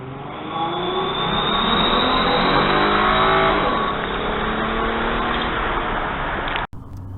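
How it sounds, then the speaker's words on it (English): Inside a moving car beneath a bridge, a cheap aftermarket fake turbo whistle simulator rises and falls with the engine, its whistling whine layered over steady engine roar before the sound cuts out abruptly near the end. "Here's how the turbo simulators sound inside of the car under a bridge."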